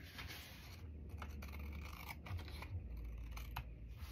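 Scissors snip through paper, trimming a glued piece at the edge of an index card for a collage; a steady run of small close crisp cuts and scratches, quiet with no talking.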